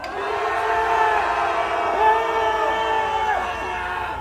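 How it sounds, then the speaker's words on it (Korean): A crowd at a political rally outside a party headquarters shouts in anger: a loud, sustained collective roar of many voices held together for several seconds, swelling slightly before easing. "분노의 함성 5초간 발사!"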